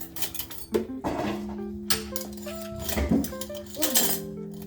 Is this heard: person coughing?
no